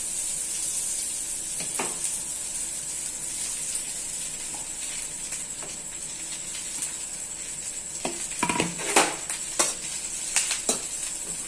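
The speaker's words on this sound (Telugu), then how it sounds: "నూనె కాగింది ఇప్పుడు ఈ మునగాకుని దిగిలేస్తున్నాను" Moringa (drumstick) leaves sizzling in hot oil in a pan, a soft steady fry with a faint hiss throughout, broken by occasional louder crackles and stirring clicks toward the end.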